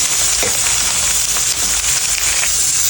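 Potato and brinjal for a Nepali curry frying in a pan, a loud, dense, continuous sizzle close up with faint scraping from stirring, and no talk.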